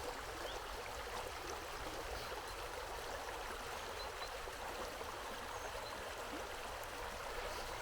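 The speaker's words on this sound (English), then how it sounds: "River, stream." Steady rushing and trickling of a flowing stream in the Windrush Valley, Cotswolds, continuous and fairly close, with no voices.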